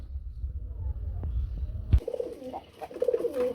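A running pair of local pigeons coos close by, with soft throaty calls rising after a quiet, rumbling start and repeating several times in the second half.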